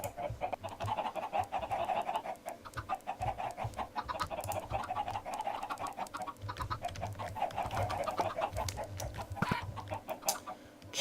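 Chickens cluck continuously on a Minecraft chicken farm, many overlapping birds producing a busy, steady clucking texture throughout.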